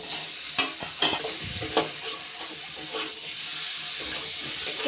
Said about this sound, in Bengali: এবার এটাকে জল দেবো না, কিন্তু এইভাবে খুব ভালো করে প্রথমে একটু নেড়ে নেব।